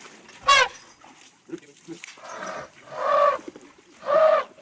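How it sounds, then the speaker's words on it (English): An animal howl from the video game Outer Wilds, heard as several separate mournful, tonal wails with short pauses between them, close and clear. "most were correct in assuming it's an animal's howl"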